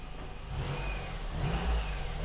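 Car engine revving through a repaired cheap exhaust, a steady mid-pitched drone that swells and pulls harder twice, close and fairly loud with no talking.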